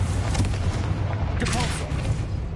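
A Confringo blasting curse in Hogwarts Legacy bursts with a loud, rumbling boom. The heavy low-end blast rolls on with crackling debris the whole time.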